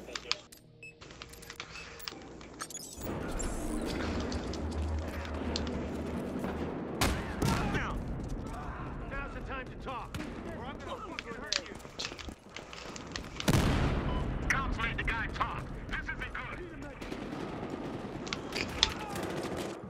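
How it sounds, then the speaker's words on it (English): Rapid bursts of Scorpion gunfire in Battlefield Hardline run through most of the stretch, dense and sustained, with a louder burst about two-thirds of the way in and faint game effects between. "Scorpion has an amazing rate of fire"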